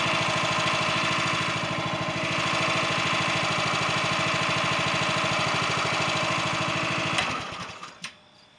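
A County Line wood splitter's small engine idles nearby with a steady, rapid chugging rhythm for about seven seconds, then cuts off and sputters to a stop, leaving a few clanks.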